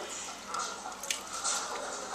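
Wet squishing and squelching of whole red wheat dough being kneaded in a bowl of water to wash out the gluten, a soft steady churn with a few brief splashy accents, close and alone.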